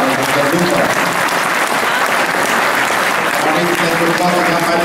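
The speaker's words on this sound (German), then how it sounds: "dass wir ihn einen riesen Applaus" An audience at a stallion presentation at a horse show in Vechta claps steadily and loudly throughout, a dense continuous applause with a voice faintly audible beneath it.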